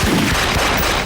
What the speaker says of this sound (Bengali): গুলির শব্দ এটা?